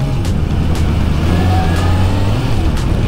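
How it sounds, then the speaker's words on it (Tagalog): A Bristol Kove 450RR motorcycle's exhaust hums in a steady, loud drone under heavy wind rush while it picks up speed, with no voices. "Sarap sa tenga ang kanyang exhaust."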